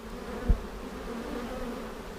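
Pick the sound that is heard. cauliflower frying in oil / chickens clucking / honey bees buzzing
honey bees buzzing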